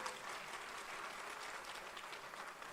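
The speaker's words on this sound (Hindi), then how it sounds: "ताली बजा करके उनका स्वागत कर दीजिए" Steady audience applause at a political rally in Uttar Pradesh welcoming the state party president and a Union Minister of State for Finance, with dense, continuous clapping from a large crowd throughout.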